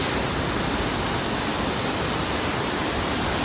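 Mother Falls in Aurora thunders with a dense, constant roar of falling water, loud and unbroken throughout, with no voices over it.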